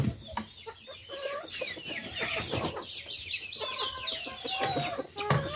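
On a rural smallholding, a flock of hens clucks and squawks continuously close by, with busy overlapping calls and rising cackles that build toward the end.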